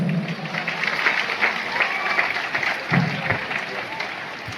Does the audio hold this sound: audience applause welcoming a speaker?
yes